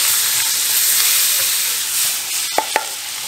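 Chili frying in a pan while smoked fish is prepared, giving a steady close sizzle and hiss throughout, with a couple of sharp clinks near the end.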